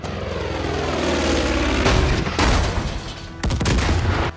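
A propeller airplane engine roars in the Far Cry 5 video game, a loud steady drone that swells as it passes close, broken by sharp bursts of gunfire near the end.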